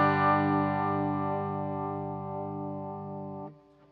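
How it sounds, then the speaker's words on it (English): A guitar played through a Hardwire TR-7 pedal set to vibrato and chorus: a single held note shimmers with a wavering, pulsing modulation, loud and alone, then cuts off sharply near the end. "you're going to hear more of a vibrato and chorus."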